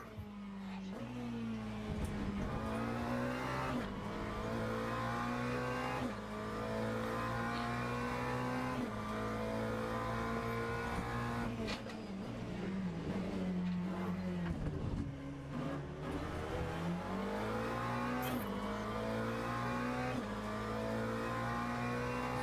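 Hypercars race around Imola in the Le Mans Ultimate sim game, a steady loud engine whine rising and dropping with repeated gear shifts and revs, continuous throughout with little speech.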